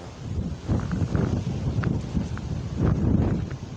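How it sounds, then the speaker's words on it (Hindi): Steady gusty wind buffeting the microphone, a low rumbling roar that swells and eases with no voices. "बहुत तेज़ हवा चल रही है यहाँ पर"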